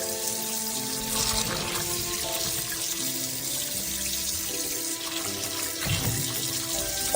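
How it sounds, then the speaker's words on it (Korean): Tap water runs steadily into a sink while three sweet potatoes are washed, a constant close splashing stream with small shifts in pitch as hands move under the flow. "먼저 고구마 3개를 잘 씻어 준비해 주세요."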